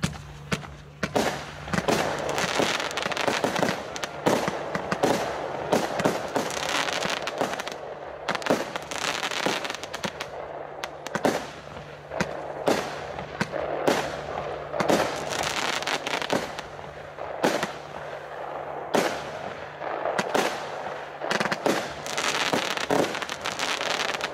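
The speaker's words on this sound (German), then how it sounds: "Die Noisemaker 30 Schuss, 318 Gramm Netto-Explosivmasse, Kaliber 23 mm." A Noisemaker 30-shot fireworks battery of 23 mm calibre, 318 g net explosive mass, fires at a New Year's Eve demo shoot, with a long rapid series of loud bursting bangs and crackles in irregular succession.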